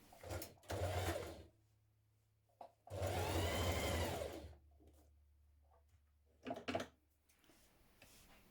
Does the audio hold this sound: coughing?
no